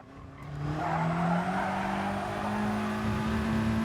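VW Scirocco Gr.4 race car in Gran Turismo Sport at Lago Maggiore, its engine note droning steadily at high revs with a rising pitch, loud and continuous with no talk.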